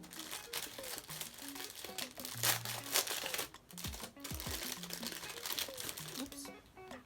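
Plastic packaging around a set of makeup brushes being opened, with crinkling and tearing rustles close by in bursts, under a speaking voice.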